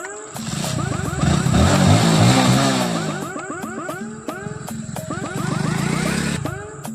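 A motorcycle engine revs and approaches, its droning pitch rising and falling twice as it rides up close, loud and near.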